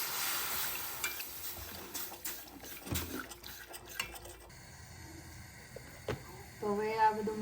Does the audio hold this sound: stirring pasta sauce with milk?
yes